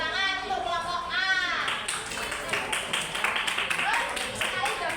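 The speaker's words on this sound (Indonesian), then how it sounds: "tepuk tangan untuk kelompok A" A classroom of pupils claps together for a group, a dense patter of many hands that builds after a voice speaks and carries on to the end.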